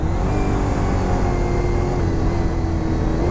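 Honda Fireblade 400cc inline-four motorcycle engine while riding, a loud, steady, smooth drone that holds throughout with wind rush and no voices.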